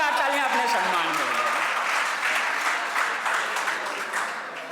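An audience at a poetry event at DAV PG College, Varanasi, bursts into steady, full applause. A voice trails off at the very start, then the clapping carries on evenly and fades a little toward the end.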